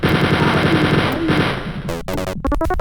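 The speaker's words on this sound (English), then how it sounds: "once I acquired the chain gun, that's the weapon I would use for the rest of the episode" The chain gun in Wolfenstein 3D fires a loud, rapid, continuous burst of retro digitized shots, then breaks off into a few separated bursts at the end.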